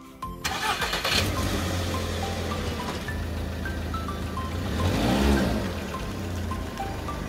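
A car with freshly de-rusted brake discs starts up and pulls away on a test drive, its engine settling into a steady, fairly loud hum with a brief swell partway through; no one speaks.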